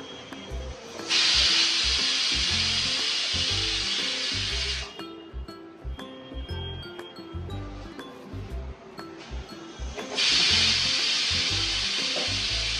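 Chopped onion sizzles in a pan with a steady bright hiss, broken by metal clinks of a spatula stirring, the frying swelling loud, easing back, then surging again as stirring resumes.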